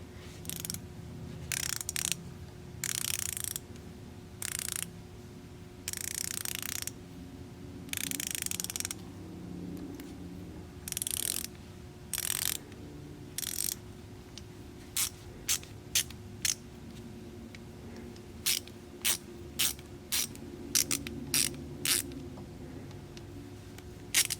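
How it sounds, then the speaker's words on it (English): A Mac 1/4-inch drive 90-tooth flex head ratchet clicks in bursts of fine, rapid ticks, alternating with pauses, then switches to shorter, quicker sets of clicks, close and fairly quiet. "now let's get to what we care about here, which is what this thing sounds like."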